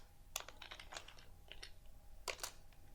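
Typing Java code on a computer keyboard: scattered close-up key clicks in short irregular bursts, with two louder clusters of keystrokes, over a quiet room hum and no talking.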